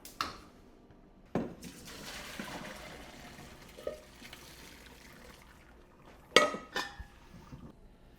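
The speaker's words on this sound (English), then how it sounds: "it's time to drain the pasta" Pasta water drained from a cooking pot into a sink, heard as a few metallic clanks of the pot followed by splashing and pouring water, close and moderately loud in a quiet kitchen.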